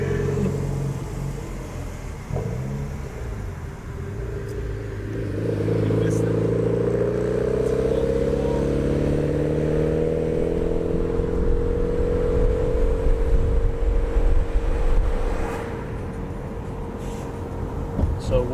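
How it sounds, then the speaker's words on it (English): A turbocharged older Mitsubishi Evo pulls hard in a short acceleration run, its engine note rising steadily through several gears and staying loud and close throughout, with speech mixed in over the engine. "Just did a short pull with the Evo"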